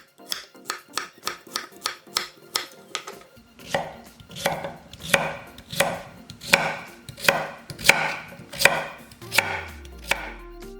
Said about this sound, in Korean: 고구마는 껍질을 벗긴 후 1cm 두께로 편 썰어서